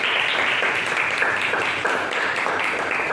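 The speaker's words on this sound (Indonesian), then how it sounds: "Tepuk tangan buat Mas Fahri." Clapping from a room of participants at a teacher performance assessment session, a steady dense patter of hands sustained evenly throughout at moderate level.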